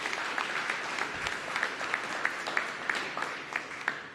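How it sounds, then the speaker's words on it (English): Steady applause from a crowd at a 9/11 first responders ceremony in Washington, DC, a dense wash of clapping with occasional sharper claps standing out, continuous through the whole stretch. "So another round of applause for Chef Andres as well."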